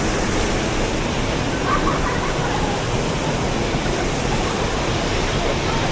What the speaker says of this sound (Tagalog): Nandito yung waterfalls ha.